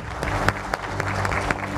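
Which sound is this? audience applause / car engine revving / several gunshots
audience applause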